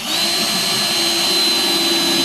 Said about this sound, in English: I'm just going to put it in with a couple little screws just to hold it in place for the moment.